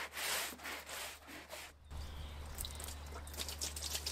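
Scrubbing and rubbing on a wooden terrace deck as winter's accumulated dirt is cleaned off, a steady coarse brushing that pauses briefly midway and then continues at a lower, even level.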